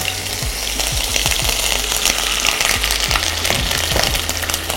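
Ground spice paste hits hot oil in a pan while cooking taro, giving a loud, steady, close sizzle throughout with a few soft stirring scrapes.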